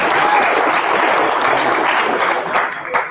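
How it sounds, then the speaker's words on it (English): Applause at a Khronos WebGL/WebVR meetup at GDC 2019, a loud, dense burst of clapping from an indoor crowd sustained throughout, with scattered voices mixed in. "So big round of applause to Khronos."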